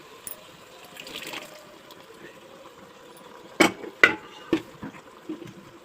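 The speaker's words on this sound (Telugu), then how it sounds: "ఇప్పుడు మనం మెత్తగా రుబ్బుకున్న పప్పుని ఇందులో పోసేసుకుందాం." Ground lentil paste is poured into a pot of cooked vegetable pieces, giving a few wet, splashy plops over a quiet background.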